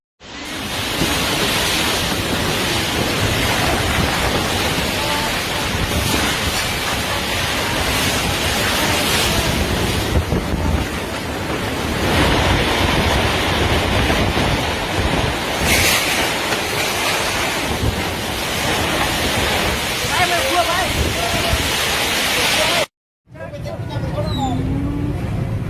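A violent storm wind, a whirlwind striking a village in Banyuwangi, East Java, roars continuously and loudly with gusting, rushing noise for over twenty seconds. Voices are heard under the roar.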